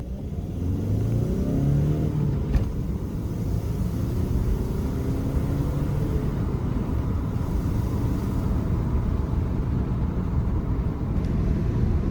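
An Audi A1 with a clogged DPF fault and little pulling power drives down a road, its engine a steady, loud low drone and rumble with slight revving, heard from inside with no talking.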